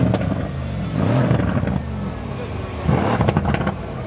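A Ferrari engine revs in a few quick bursts close by, rising and falling over roughly four seconds, with a voice faintly in the background.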